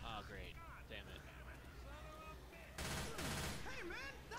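Gunshots in the video game Left 4 Dead 2 crack in a dense loud burst lasting about a second, under steady overlapping talk from several players.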